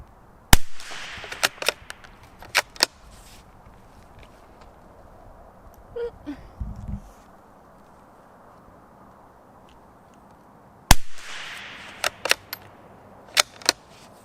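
Gunshots from a Springfield Model 2020 rimfire target rifle: sharp, isolated cracks in two clusters, a few single shots early and another burst near the end, separated by long quiet stretches with a brief faint voice between.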